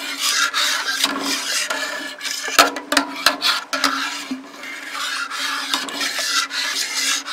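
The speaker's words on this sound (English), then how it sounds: "Let's stir that in." A utensil scrapes and rasps through a pot of mashed banana being stirred for Ugandan waragi banana moonshine, with steady rubbing strokes and a few sharper knocks, close and alone.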